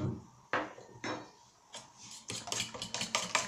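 Cauliflower gratin ingredients are mixed in a dish with a utensil, making a series of close clinks and scrapes, first spaced out, then quicker and more frequent toward the end.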